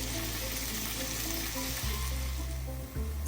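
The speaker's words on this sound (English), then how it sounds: "sprinkle some salt and saute just until the tomatoes get softer" Onion, green chilli, cashews and tomatoes sauteing in a pan with ginger and garlic, giving a loud, continuous sizzle with low hum throughout and no talk.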